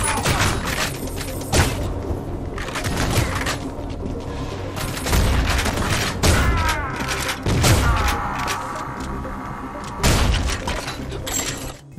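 Explosive bullets from the Penetrator SMG in the Build Engine shooter Ion Fury: loud bursts of rapid fire mixed with booming blasts and shattering debris, continuous over twelve seconds with sharp peaks, no speech.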